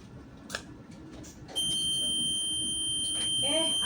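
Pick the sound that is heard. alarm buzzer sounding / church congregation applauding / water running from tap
alarm buzzer sounding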